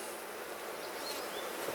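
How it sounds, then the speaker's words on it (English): Honeybees buzzing around a hive that is trying to swarm, a dense, continuous hum of many bees close by, with a few individual bees whining past. "Lots of bees in here."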